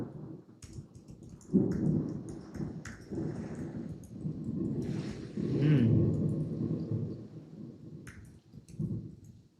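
Heavy rain pours outside a window in a sustained wash of patter and splashing, with a few rumbling swells and sharp drips. No one speaks.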